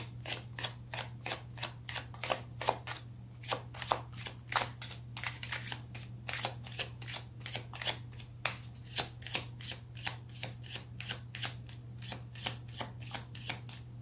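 Tarot cards are shuffled over and over in a steady rhythm, each crisp riffle snapping close and clear above a low constant hum.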